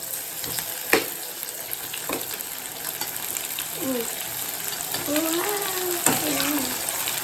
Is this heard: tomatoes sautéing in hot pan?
yes